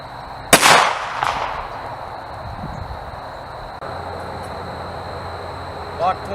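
A single sharp 9mm Corbon DPX gunshot from a Glock fired into ballistic gel cracks loudly near the start, then rings off into echo. A fainter knock follows and low background noise continues after it.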